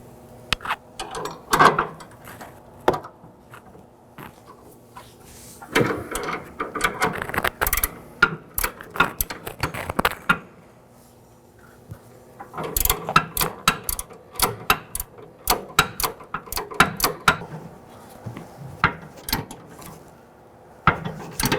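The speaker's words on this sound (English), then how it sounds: "Now I'm going to snug up the lower portion of the sway bar link. I will be using a 19mm." A ratchet snugs a 19mm nut on the lower stud of a front sway bar link on a 2013-2019 Nissan Sentra, producing bursts of quick clicking strokes separated by short pauses, close and crisp, with no talk.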